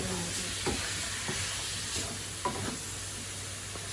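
Onions and garlic sauté in oil, a steady sizzle overlaid with a few soft stirring scrapes at irregular intervals, under a low background hum.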